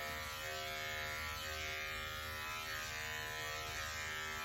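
Electric clippers shave a cocker spaniel's inner thigh, giving a steady, close, low buzzing hum that holds unbroken throughout.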